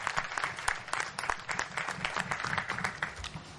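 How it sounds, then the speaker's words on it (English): Audience applause for a student day's core organizing committee, a dense, steady patter of many hands clapping at moderate distance, sustained throughout without a clear break. "A big round of applause for all of them."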